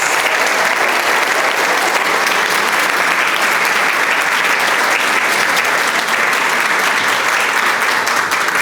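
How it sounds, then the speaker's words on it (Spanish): An audience at a talk on accounting and tax trends applauds a speaker, with dense, steady clapping holding at full strength throughout and no voices over it. "Con el aplauso de ustedes al profesor Samuel Alexis Rodríguez."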